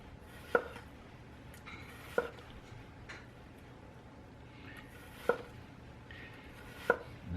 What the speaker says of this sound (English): So, onion. We're just going to do some slices. I'm using like a Vidalia onion.